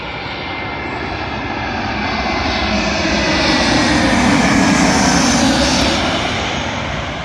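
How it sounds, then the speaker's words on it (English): A JetBlue Airbus A321neo jet arriving at London Heathrow runway 27L on a flight from New York JFK, its engine roar building steadily to a loud, broad peak mid-pass and then easing slightly, with no voices. "Arriving in now is a JetBlue Airbus A321neo, working a service from New York to London Heathrow."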